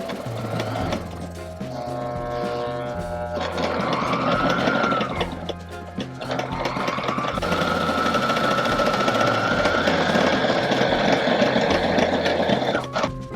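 A Sailrite sewing machine stitching a hem on a hatch cover, rapid mechanical chattering in bursts with short pauses, close and loud, with a whining motor tone rising and falling as the speed changes.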